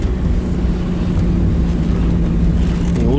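A 1980 Chevrolet Chevette hatchback engine idling, steady, loud and close, with a low even hum and a well-tuned carburetor.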